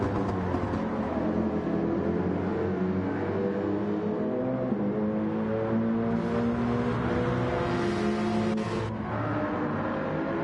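Porsche and McLaren race cars at Brands Hatch in Gran Turismo 7 roar steadily at high revs, engine notes rising and shifting through gears in a continuous loud drone, heard from on board with no voices.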